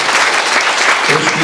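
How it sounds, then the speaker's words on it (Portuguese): A brief, loud burst of applause rises from the audience at a meeting of protest notaries in Londrina, dense clapping filling the short moment without a pause. "até uma salva de palmas"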